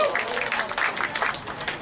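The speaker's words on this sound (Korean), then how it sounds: "큰 박수로 한번 맞이해 보겠습니다." Audience applause at a Korean labor solidarity rally, a brief steady patter of many hands clapping from a crowd, moderately loud and close.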